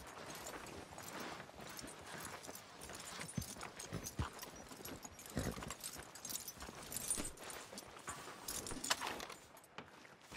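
Horse hooves clip-clop in a steady walking rhythm in the video game Red Dead Redemption 2, with faint jingling of tack and light background noise, fairly quiet throughout.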